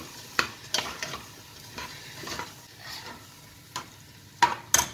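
Soaked, drained rice is stirred and turned into frying masala in a pan for kushka, with a soft steady sizzle under repeated scraping strokes of a spoon against the pan, close and clear.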